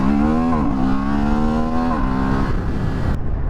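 Honda Hornet CB750 motorcycle fitted with an SC Project exhaust and quickshifter, revving hard as the engine climbs and drops back, loud and close with a rough rasping exhaust note throughout.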